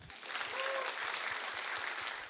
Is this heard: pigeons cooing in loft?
no